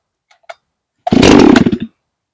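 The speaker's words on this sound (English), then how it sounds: "I'll give it a few more tries here, guys. I'm not even going to touch it. I'm going to choke it again" A Farmertec G366 chainsaw, a Stihl MS361 clone, is pull-started after being choked: a couple of faint clicks, then the engine fires loudly and runs roughly for under a second before dying.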